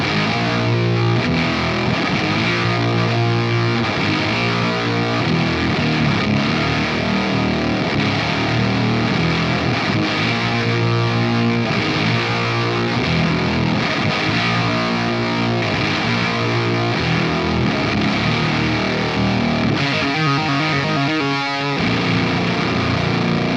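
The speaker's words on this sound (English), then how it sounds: "Of course, I need to hear it with some fuzz as well, so let's dial it in for the Demiurge Doomy." An electric guitar played through a Demiurge Doomy fuzz pedal, a take on the Life pedal, chugs out heavy saturated riffs with thick sustained low chords, loud and dense throughout with no voices.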